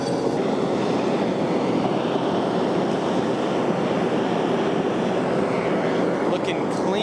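A blacksmith's forge roaring steadily as it is relit, a dense, even rushing burner noise that stays loud and constant throughout, with no pauses.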